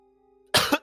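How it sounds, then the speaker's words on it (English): A single sharp cough, loud and close, followed by a brief second burst, after a quiet stretch with a faint steady hum. "I apologize if I cough."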